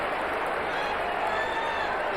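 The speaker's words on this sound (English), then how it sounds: "draw great applause" Geelong supporters roar and applaud at a football grand final at Princes Park, a steady, loud crowd din filling the ground without break.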